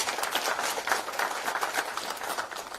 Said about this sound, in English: Can we have a big round of applause once again?